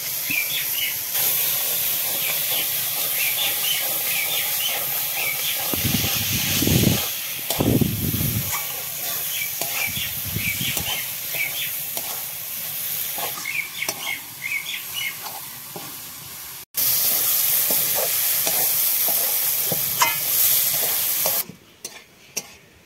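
Eggs stir-fried in a pan for egg bhujia: loud continuous sizzling hiss with repeated scraping stirs, stronger bursts of stirring partway through, then a brief cut near the end.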